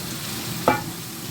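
A spoon gives one quick scrape through lentils frying with garlic, onion and turmeric in a pan, a short stir over a soft, steady sizzle.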